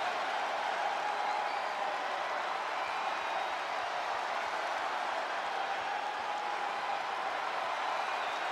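A capacity arena crowd in the WWE 2K22 wrestling video game, a steady wash of cheering and applause that stays at a constant level without peaks, filling the background throughout.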